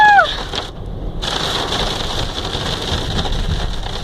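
Hailstones the size of balls pelt down during a British storm while people shelter under a bridge, a dense, steady clatter and hiss filling the whole scene at close range with no talk over it.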